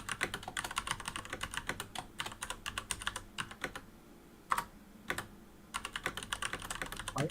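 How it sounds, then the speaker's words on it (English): Rapid typing on a computer keyboard, dense bursts of close, crisp keystrokes broken by brief pauses and a few isolated louder key presses, with no talking. "I can type it into chat."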